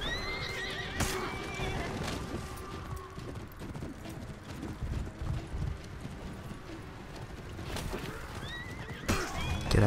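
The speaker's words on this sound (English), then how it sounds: "It's funny watching the horses tumble from back here." Horses in the video game For Honor whinny and neigh loudly, with clip-clopping hooves and bursts of tumbling commotion. Brief voices are heard between the animal calls.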